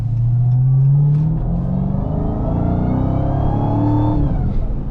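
A 2023 Dodge Charger Hellcat in track mode, its supercharger whine rising over a deep engine rumble as the car accelerates. The sound is loud and steady from inside the cabin, with the pitch climbing smoothly and no talking.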